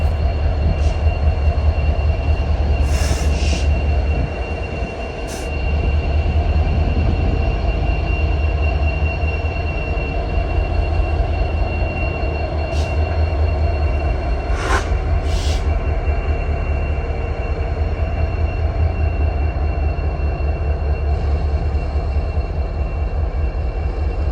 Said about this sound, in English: The AC to DC locomotive had gone completely unnoticed, till now.